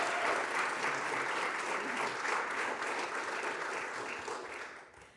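An audience at a charitable giving kickoff event breaks into sustained, full-room applause, steady and loud before fading toward the end.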